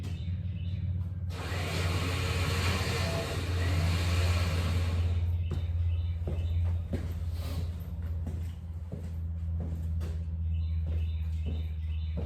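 A 1963 Ford F100 truck rolls off a ramp, its engine rumbling low and steady with a broad, noisy roar for a few seconds before settling into a continuous idle-like hum, with scattered knocks and clunks.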